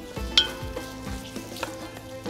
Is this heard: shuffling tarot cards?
no